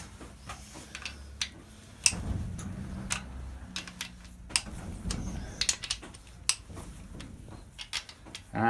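Scattered metallic ticks and clinks of tools working on bolts on a VW T25 campervan, faint and irregular, spaced by quiet gaps with occasional sharper taps.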